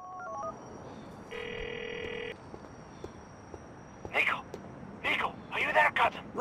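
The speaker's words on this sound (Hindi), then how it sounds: "तो मैं फ़ोन करके देख लेता हूँ दोस्तों रोमन को।" A phone call to Roman in GTA IV: short dial tones, then one electronic ring tone lasting about a second, followed by voices speaking on the line.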